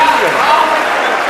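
An audience at a kavi sammelan breaks into loud, dense applause, a continuous wash of clapping across the whole short moment.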